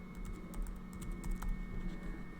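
Quick, light keystrokes on a computer keyboard as a file name is typed, an uneven run of soft clicks close up with no talking.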